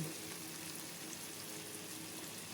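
Alamang, salted shrimp paste, goes into a hot pan with a soft, steady sizzle and light frying crackle that ends in a brief clatter.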